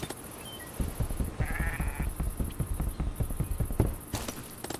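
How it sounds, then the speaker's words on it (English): A sheep in Minecraft gives rough, wavering bleats amid footstep-like clops and faint insect chirps, moderately quiet with no speech. "you poor sheep, you sound sick"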